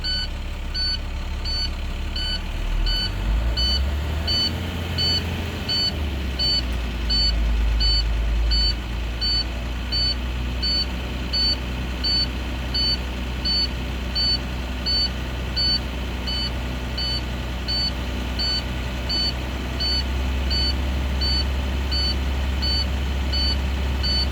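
A truck engine idling steadily with a deep low rumble while its air brake tank fills to pressure, accompanied by a continuous regular electronic beeping, with no talk.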